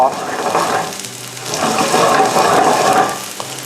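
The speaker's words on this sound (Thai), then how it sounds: "ตอนนี้เนี่ยน้ำมันผมเริ่มร้อนแล้ว ผมใส่เห็ดหอมลงไป" Shiitake mushrooms frying over high heat in hot oil in a wok, a steady broadband sizzle that swells midway, close and fairly loud, with a voice talking over it.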